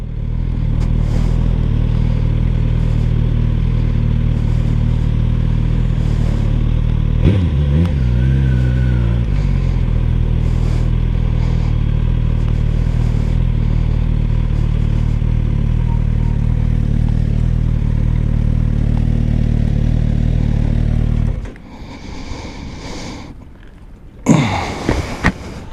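A Suzuki GSX-S 1000F motorcycle running steadily with a loud, continuous low engine drone and road rumble, a brief shift in pitch partway through, then dropping away near the end to quieter bumps and a short burst.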